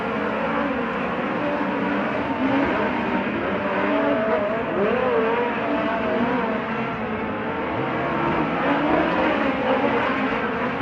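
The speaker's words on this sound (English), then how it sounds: "Green flag comes out. Group number 5, Dirt Draft Hot Laps." Dirt race cars roar through hot laps at Placerville Speedway, a loud continuous wall of engines revving and sweeping around the track.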